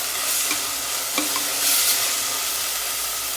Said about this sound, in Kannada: ಎಣ್ಣೆಯಲ್ಲಿ ಹುರ್ಕೊಳ್ಬೇಕು.